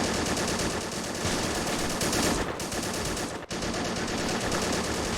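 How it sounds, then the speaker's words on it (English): Several Maxim machine guns fire in Men of War during a 1939 Polish defense battle, a dense, unbroken rattle of automatic fire at close range that holds steady throughout with only a brief dip. "The Polish are firing off multiple what seems to be Maxim machine guns"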